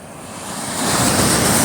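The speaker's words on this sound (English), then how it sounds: "There's some waves rolling in" Ocean surf rolling in at a Gulf shore beach, a steady broad wash of breaking waves that builds louder over the second half, with some wind noise and no talking.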